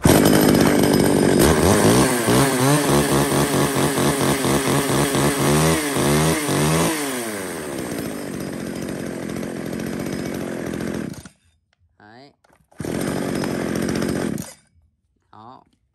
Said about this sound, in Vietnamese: 1 triệu 800 ngàn cho một con máy cưa xích mini